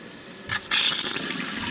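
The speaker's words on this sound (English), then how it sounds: "One thing I have noticed with the hot running water is there's more pressure in the lines." Hot water from a tap in an off-grid tiny home bursts out under high line pressure, with a short sputter and then a loud, steady gushing rush close by.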